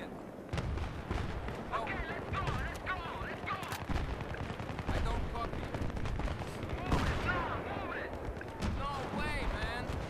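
Rapid gunfire and explosions fill a Battlefield 3 match on Strike at Karkand, dense overlapping shots and bursts running throughout with voices talking over the battle.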